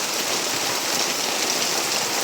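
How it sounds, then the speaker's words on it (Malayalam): Heavy rain pours down in a dense, loud, unbroken hiss, drops drumming steadily on surfaces with no voices present. "ഇന്ന് നല്ല മഴയാണ് ഗൈസ് പെരും മഴ റെഡ് അലേർട്ടിൻ്റെ മഴ"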